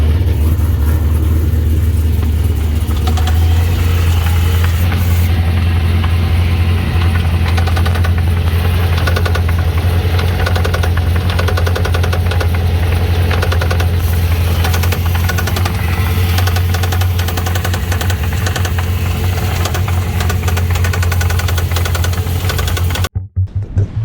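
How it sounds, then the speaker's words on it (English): An LS-swapped drift car's engine idles loud and close with a persistent knocking noise, a steady low rumble with rapid ticking running underneath until it cuts out near the end. "have a little noise in the engine"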